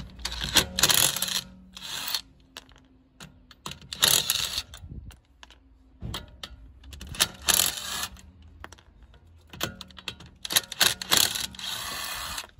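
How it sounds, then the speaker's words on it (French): A Parkside impact wrench loosens the wheel nuts on an Audi A5 in loud, close bursts of rapid rattling hammering, separated by short pauses and clanks. "le petit test de la Parkside, la clé à choc"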